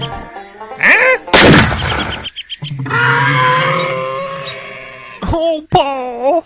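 Gunfire in a bird-hunting video game rings out in a sharp, loud burst amid cartoonish animal wails and a voiced character shouting before and after.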